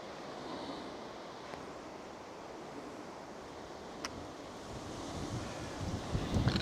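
Strong wind blows steadily across an open nature reserve at Bentley Fosters Green Meadows, a broad continuous rush that swells and buffets the microphone more heavily toward the end, with no voices present.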